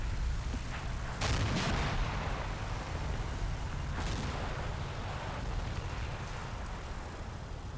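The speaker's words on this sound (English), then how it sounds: "these rounds are definitely exploding in the air" Airburst artillery shells bursting over a Russian tank assault in Combat Mission: Black Sea, a few distant cracking detonations over a constant low rumble of battle.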